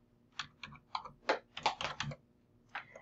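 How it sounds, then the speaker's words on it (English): A PIN being typed on a computer keyboard: a quick burst of separate key clicks in an uneven rhythm, close and clear with no talk. "And you're going to type the same PIN again, verify PIN."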